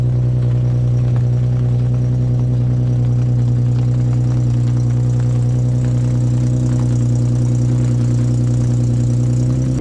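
A twin-turbo V8 swapped into a Honda Accord runs at a steady, loud idle, a deep continuous drone with a strong low hum and faint mechanical whine throughout, no voices.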